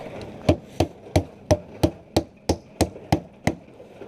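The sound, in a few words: hammering nails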